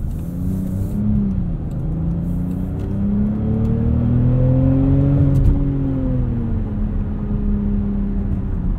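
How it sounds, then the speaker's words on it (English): A 2021 Jaguar F-Pace P400 inline-six engine drones and climbs in pitch as it revs, then eases off, a smooth, steady exhaust note heard from inside the cabin. "Nice sounding inline six, a little bit artificial in some RPMs."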